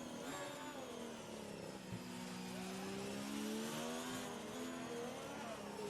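In the F1 2019 racing game, a Formula One car's engine leaving the pit lane at Silverstone rises and falls in pitch as it accelerates through the gears, a steady high whine with no talk over it.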